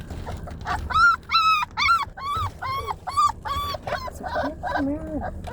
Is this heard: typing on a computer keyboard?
no